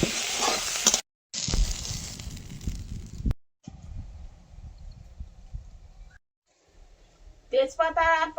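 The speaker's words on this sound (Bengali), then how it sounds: "প্রথমে লবণ হলুদ দিয়ে আলু বেগুনগুলো ভেজে নেব।" Potatoes and eggplant fry in hot oil with salt and turmeric, sizzling in bursts broken by short silences, with a voice talking over parts of it.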